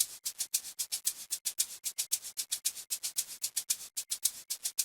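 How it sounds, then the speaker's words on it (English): Crisp shaker in an amapiano beat, steady rapid sixteenth-note pulses with bright hissy attacks, playing alone and fairly close. "And then again we have another shaker which sounds like this."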